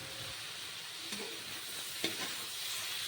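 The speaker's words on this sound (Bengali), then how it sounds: "টমেটোটাকে ভেজে নেব যেহেতু কাঁচা টমেটো সিদ্ধ হতে একটু টাইম লাগবে তাই নেড়ে চেড়ে আমি ভেজে নিই" Raw green tomatoes frying in a pan for a chorchori, a steady hissing sizzle with a few soft stirring scrapes and taps, heard alone without speech.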